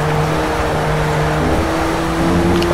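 Ford RS500 race car at Silverstone, a close, steady loud engine drone with a shifting tone as it drives on, no talking.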